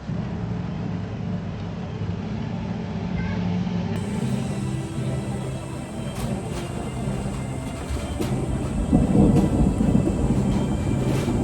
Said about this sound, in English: thunder crash.